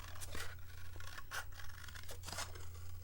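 Scissors snipping out an egg shape from paper for an Easter card, a few quiet, close crisp cuts and rustles against a soft background hum.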